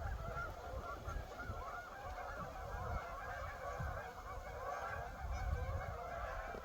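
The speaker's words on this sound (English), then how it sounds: "Tons of geese." A large flock of geese honks continuously near a rural path, dense overlapping calls forming a steady noisy chorus at moderate distance with no talk.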